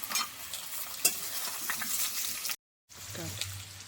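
Turmeric-boiled potatoes fry in hot oil with a steady close sizzle and the scrape of stirring, cut by a brief silent gap before a low hum joins the frying.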